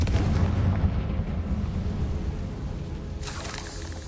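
A Confringo spell explodes in Hogwarts Legacy, a loud, heavy blast with deep rumbling low end that roars steadily and then thins toward a brighter crackle near the end.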